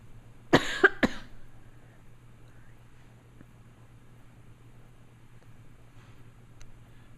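A pair of quick, close coughs opens the clip, followed by several seconds of near-silence over a faint background hum.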